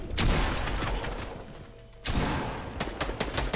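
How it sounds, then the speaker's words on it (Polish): Gunfire in Fortnite: a loud, dense burst of shots up front that tapers off, a brief lull, then renewed rapid, uneven firing, close and without talking. "Kolega strzela."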